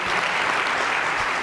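Conference audience applauding speakers Alex and Val, a dense, steady burst of many hands clapping at close range with no voices over it.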